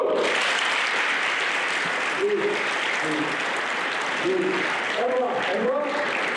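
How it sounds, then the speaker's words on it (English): A school audience claps steadily at a motivational speaker event, with dense, continuous applause filling the room while brief voices and cheers break through now and then. "Round of applause."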